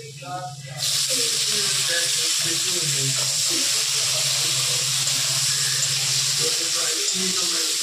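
Kitchen dishes and bowls scrubbed under running water, a loud steady tap gush that starts abruptly and continues close and unbroken, with a voice speaking faintly underneath.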